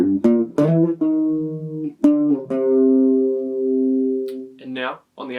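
Guitar playing the opening riff of a song, a few plucked, sustained notes up close with long ringing tails, followed at the end by a brief spoken voice.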